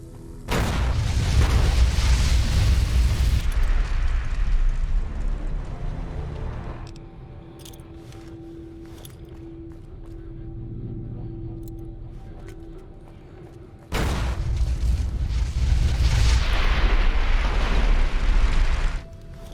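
Ignited gas explodes in the Fallout video game with a deep, roaring blast and rumble that drops to a quieter hum, then a second heavy explosion roars in near the end.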